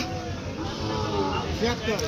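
A Sahiwal cow moos at a busy cattle market in Ambari, Dinajpur, a loud, drawn-out low call rising near the end, with crowd chatter and voices around it.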